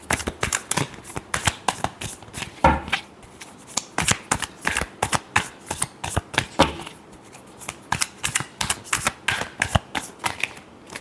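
Tarot cards being shuffled by hand, a rapid run of crisp riffling flicks and slaps in uneven bursts, close and clear with no talking.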